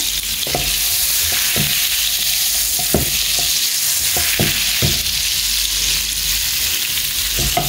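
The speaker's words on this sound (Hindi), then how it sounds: "तो आतां बटर हिंगा मेल्ट जावंक दिता" Butter melts with a splash of oil in a hot pan, giving a continuous, close hiss and sizzle with scattered soft pops and spatters throughout.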